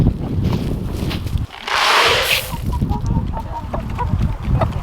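Hens cluck in short, scattered bursts on a cold, windy off-grid property, over a steady windy rumble, with a few footsteps shuffling nearby and a brief higher squawk in the middle.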